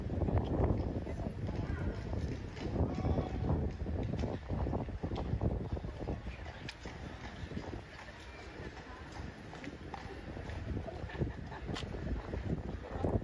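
Horse hooves clip-clopping during the Horse Guards changing in London, light irregular steps heard under steady wind noise and someone talking nearby.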